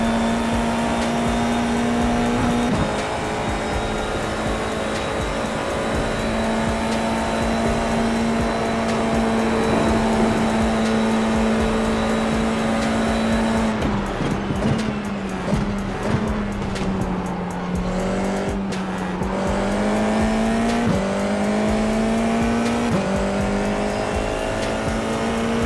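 Race cars lapping a track in a sim racing game during an e-sport national championship, with a loud continuous engine whine rising and falling through gear changes, tires squealing on cold rubber, and other cars running close alongside.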